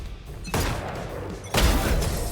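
Video game gunfire in a 1v1 match: two heavy, loud blasts about a second apart, each a broad burst that rings on briefly.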